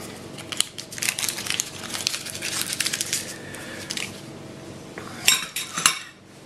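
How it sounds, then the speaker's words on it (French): A spoon working bread dough of flour, sugar, salt and fat in a bowl, scraping and clinking against the sides with a sticky squishing texture, followed by a few sharper clanks of metal on the bowl. "moi je prends une cuillère pour commencer à travailler, pour ne pas avoir à mettre mes mains tout de suite dedans"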